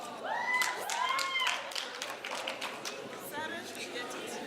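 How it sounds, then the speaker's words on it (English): Applause from the audience at a health training centre graduation ceremony, a steady, moderately loud spatter of many hands clapping. A few brief whistle-like tones and voices run over it. "give a resounding round of applause of appreciation for the late Mrs. Rosalia Ngidinwa"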